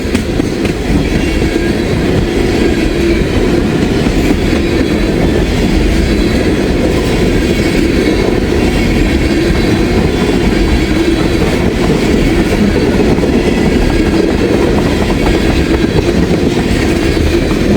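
A CPKC locomotive hauls a train past slowly under a speed restriction, with a steady loud rumble and rolling clickety-clack of wheels throughout, continuous and close, with no talking.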